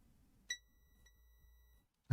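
A continuity tester beeps while tracing an NES circuit board: one clear, sustained electronic tone starts abruptly and holds for over a second, then a brief thump follows in a quiet room.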